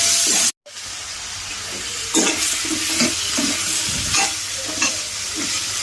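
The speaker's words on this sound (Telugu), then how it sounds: "మనం ఇలా తరిగి పెట్టుకున్న గుమ్మడికాయను వేస్తామన్నమాట." Chopped pumpkin fries with golden-brown onions in a pan, a loud continuous sizzle broken by repeated scraping stirs close by, with one brief cut in the sound near the start.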